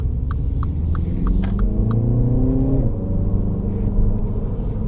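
A 2020 MINI Cooper S with a 7-speed dual-clutch gearbox backing out in reverse, heard as a steady low engine rumble from inside the cabin with a gentle rise in pitch as it rolls, plus a few faint ticks.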